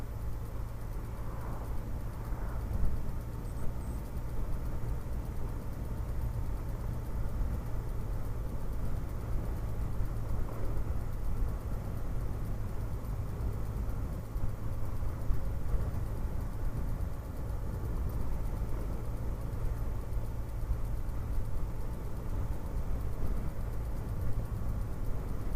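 A Honda Blackbird motorcycle rolls along at low speed on a spring country ride, a low, steady, faint engine drone mixed with wind rumble throughout.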